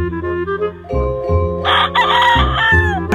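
A gamefowl rooster crows on a game farm, a loud, close, drawn-out cock-a-doodle-doo rising over steady background clucking and low farmyard noise.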